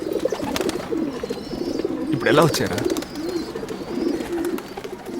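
Pigeons cooing with soft, low, repeated calls heard under and between people talking in a film scene, with a louder burst of activity midway.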